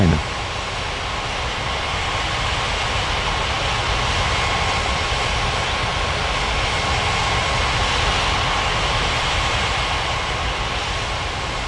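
Airliner jet engines hum steadily while taxiing at Ngurah Rai Bali Airport in an air traffic control game, a constant loud engine whine and rumble with no breaks.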